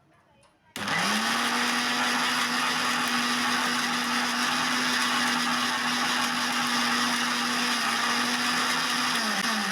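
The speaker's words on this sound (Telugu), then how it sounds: "ఇంకా కొంచెం గ్రైండ్ అనేది చేసుకోవాలండి" A kitchen mixer grinder whirs loudly and continuously while grinding henna leaves into a smooth paste, starting abruptly and holding a steady motor hum to the end.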